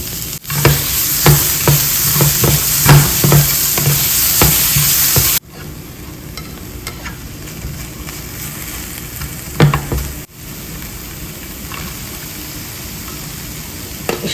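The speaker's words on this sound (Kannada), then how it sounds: "ನಾನು ಯಾವಾಗಲೂ ಫಸ್ಟ್ ಕ್ಯಾಪ್ಸಿಕಮ್ಮೇ ಹಾಕೊಳ್ಳೋದು, ಬಿಕಾಸ್ ಅದರದ್ದು ರಾ ಸ್ಮೆಲ್ ಹೋಗಲಿ" Capsicum with a little cumin frying in a pan, loud close sizzling with rhythmic stirring scrapes at first, then a quieter steady sizzle with an occasional clatter.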